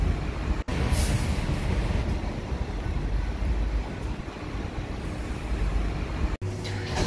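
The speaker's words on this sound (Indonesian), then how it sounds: "Ini aku lagi ganti kereta." Inside a train during a transfer, a steady loud rumble of railcars rolls on continuously, with a broad rushing noise and two brief dropouts; no talking is heard.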